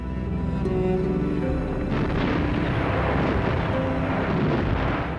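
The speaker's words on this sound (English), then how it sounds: "It was preceded by very heavy air attacks and, as always, a thunderous artillery barrage." A thunderous World War II artillery barrage from the Battle of Berlin, a dense continuous roar of heavy booms and rumbling blasts that stays loud throughout with no voices.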